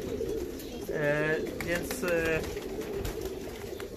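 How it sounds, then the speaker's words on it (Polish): Stawak małopolski fancy pigeons coo in two short harmonic bursts at a breeder's loft in Tarnów, set against steady background noise and a brief spoken word. "gołębi ozdobnych, takich jak stawak małopolski, który tutaj widzimy"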